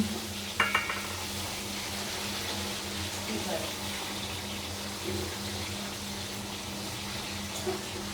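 Mutton curry is mixed with salt in a cooking pot: continuous scraping and stirring over a low sizzle, with a few clinks of a utensil against the pot.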